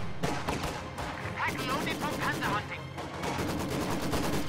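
Gunfire in a World War era strategy video game where grenadiers assault a house held by a Maxim machine gun, with dense, continuous bursts of shots and rattling fire mixed with battle noise, under a speaking voice.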